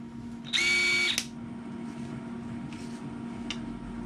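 A power tool whirs in one short, loud burst lasting about half a second while the wheel is taken off a 2011 Yamaha Grizzly 350 ATV in a workshop, followed by a quieter steady background hum.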